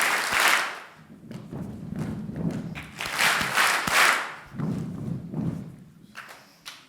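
Audience in a talk on rituals claps and stomps together in time, broad thumping bursts of hands and feet repeating in a steady rhythm, close and fairly loud with no speech over it.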